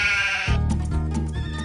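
A sheep bleats loudly and close by in a paddock in Parkes, Australia, one long wavering call with no talk over it.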